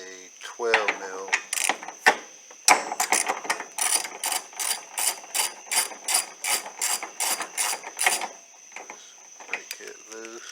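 Hand ratchet breaking loose a 12 mm nut on the wiper arm of a 1995 Mazda Miata MX5, a close run of rapid metallic clicking bursts in a steady rhythm after a few sharp knocks.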